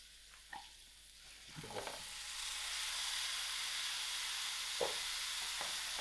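Cut cauliflower frying in a pan, a steady soft sizzle that builds and holds, broken by a few brief scraping stirs of a utensil.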